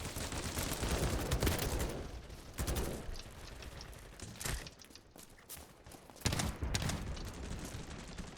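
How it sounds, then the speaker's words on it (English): AUG rifle fire in a war video game comes in repeated bursts of crackling shots with short lulls between them, fairly soft and tame rather than punchy, with no one talking over it. "it's like I'm firing the AUG off and it's just like it's whispering sweet pew pews in my ear"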